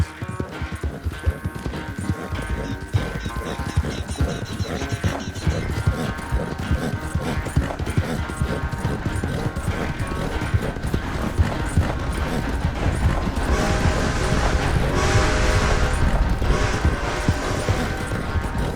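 Horse hooves clip-clop steadily over open ground in Red Dead Redemption 2, a close, continuous rhythmic plodding with soft mechanical rattles and brief voices beneath.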